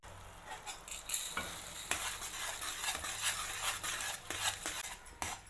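Boondi being stirred into cardamom-scented sugar syrup for motichoor laddu, a steady wet scraping and stirring with light clinks of a spoon against the pan, close and moderately loud throughout.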